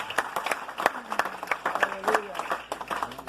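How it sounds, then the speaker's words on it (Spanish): A church congregation claps in a quick, uneven patter, close and moderately loud, while voices carry on over it. "Cuando damos fuerte aplauso al Padre, al Hijo y al Espíritu Santo."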